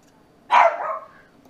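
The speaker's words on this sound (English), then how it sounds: "Sorry, my puppy, which is her son, in the background." A puppy lets out one short, sharp bark in a quiet room during a dog grooming session, close by and alone.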